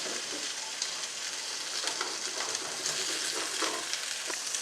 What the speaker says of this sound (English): We are going to deglaze with a red wine, because we don't want this to stick on the bottom